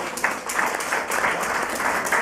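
Congregation applause during a church ministry service at a women's prison in Bandung, a steady wash of clapping with a few sharper, louder claps standing out, lasting about two seconds.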